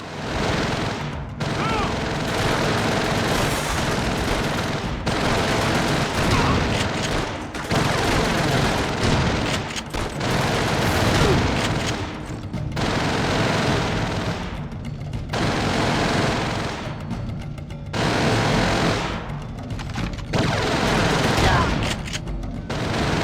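Dense, continuous gunfire in Call of Duty: World at War with shotgun blasts mixed into a heavy battle din, loud and sustained with brief lulls every few seconds and occasional booms.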